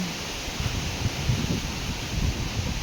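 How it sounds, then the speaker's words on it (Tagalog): A steady wind blows faintly outdoors, with a soft rustle like leaves stirring and a low rumble underneath. "Malakas yung hangin."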